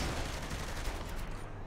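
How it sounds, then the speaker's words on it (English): Rapid gunfire from Saints Row: The Third, a dense continuous burst of shots, loud and close, filling the whole moment with no voices over it. "Shots fired."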